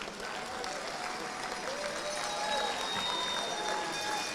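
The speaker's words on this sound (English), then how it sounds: "And please give them a round of applause." An audience at a Teacher of the Year recognition event gives a steady round of applause, a dense wash of clapping that holds at an even level throughout, with faint crowd murmur mixed in.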